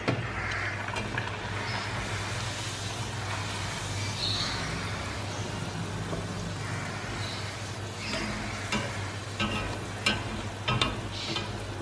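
Poori frying in hot oil, a steady close bubbling sizzle that carries on throughout with small crackles and pops scattered over it, no one talking.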